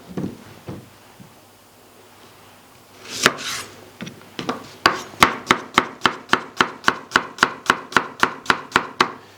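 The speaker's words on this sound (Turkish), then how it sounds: "İki tane soğanımızı piyazlık doğrayacağız." A knife chops two onions into thin slices rapidly on a wooden board, starting with a few scattered cuts, then settling into a fast, even rhythm of sharp, close knocks.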